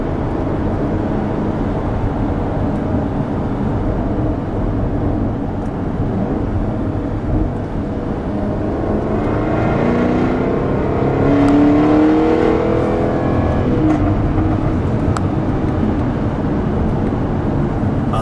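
A 2017 Jaguar F-Type SVR Coupe driving up and down mountain roads in sport mode, its engine droning steadily inside the cabin, then revving and rising in pitch with road and wind noise around it.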